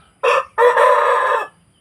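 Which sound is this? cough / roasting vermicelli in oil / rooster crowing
rooster crowing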